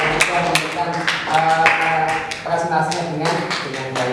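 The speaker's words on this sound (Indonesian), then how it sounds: "Tepuk tangan untuk kelompok 2" Classroom applause for a student group after their presentation, a dense patter of claps running steadily through the clip with a few sharper taps and some voices underneath.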